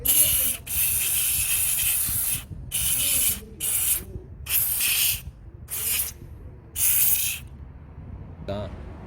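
WD-40 sprayed onto a car's idle speed control motor during carbon cleaning, seven sharp hissing bursts of varying length with short gaps, close and loud, ending with a brief rattle.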